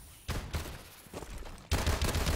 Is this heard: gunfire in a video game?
yes